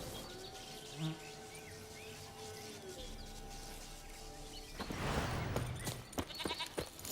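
A goat bleats in The Witcher 3 game, a wavering cry heard close by under a steady buzzing insect drone and soft ambient background, followed by rustling movement.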